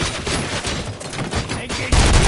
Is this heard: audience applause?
no